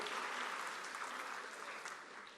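Audience clapping for a support staff member at a 2020 graduation ceremony, a dense steady round of applause that holds for a couple of seconds and tapers slightly at the end.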